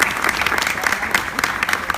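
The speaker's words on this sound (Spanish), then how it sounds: "vamos a darle un aplauso de bienvenida a Alejandro" Audience applause welcoming a guest at a comics convention interview in Montevideo, a dense, steady wash of many hands clapping at moderate loudness, with no one speaking over it.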